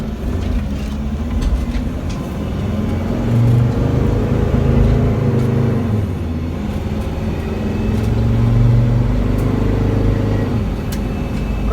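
A Mercedes Sprinter van with a P0299 turbo underboost fault accelerates on the road, its engine drone rising and surging in two waves over steady road and wind noise, loud and close from inside the cab.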